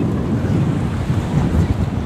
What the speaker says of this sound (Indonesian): Lumayan kencang anginnya.